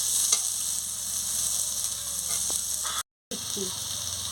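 Boiled pumpkin, potato and bitter gourd frying in a pan, a close steady sizzle with an occasional stir and knock of a spatula, cut by a brief moment of total silence near the end.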